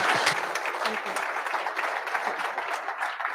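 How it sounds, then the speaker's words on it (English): An audience at the Army VERTEX energy event at Capital Factory in Austin applauds with dense, even clapping that holds steady for about three seconds, with faint voices mixed in. "can we get a round of applause?"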